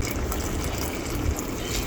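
Water pours steadily into a cooking pot, a continuous hissing, splashing rush close by for a couple of seconds without pause.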